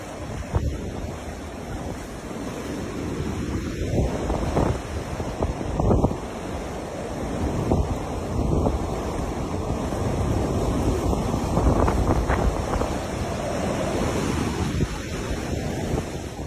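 Hurricane Ian's storm surge churns along the Florida coast as waves crash and surge under roaring, buffeting wind that batters the microphone, loud and continuous with repeated heavy swells and no voices.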